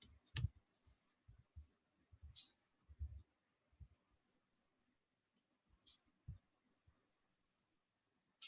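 Irregular clicks and taps of a computer keyboard, quiet and close, coming in short bursts with pauses, no voices.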